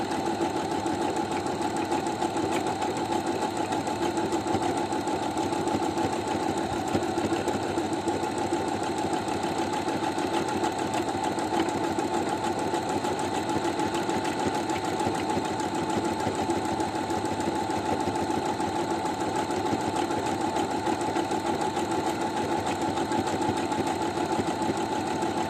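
A new sewing machine stitches steadily for its first stitches, with a continuous, even mechanical whir and a fast regular clatter that holds without a break.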